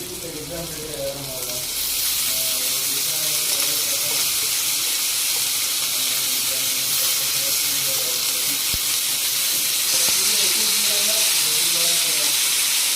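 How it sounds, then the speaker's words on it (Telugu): Washed fenugreek leaves dropped onto browned onions in a hot pan set off a loud, steady, close sizzle and steam hiss that swells after a moment and continues throughout, with a voice faintly underneath early on. "దీంట్లో కడిగి పెట్టుకున్న మెంతం కూర వేసుకుంటున్నాను"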